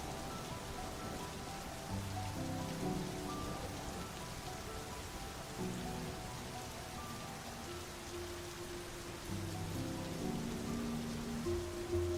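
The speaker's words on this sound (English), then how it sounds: "came the sound of heavy rain" Heavy rain pours steadily and continuously, a dense, unbroken wash of falling water close by, with no voices.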